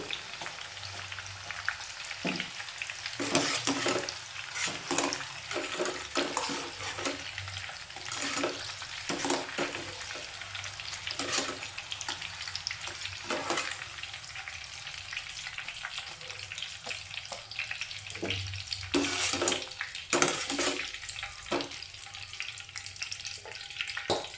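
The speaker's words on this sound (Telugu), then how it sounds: "ఇవి కూడా వేయించేసుకుందాం ఇందులో వేసి" Broad bean pods frying in oil for a pickle, a continuous soft sizzle punctuated by frequent sharp pops and occasional stirring clinks, fairly close and steady throughout.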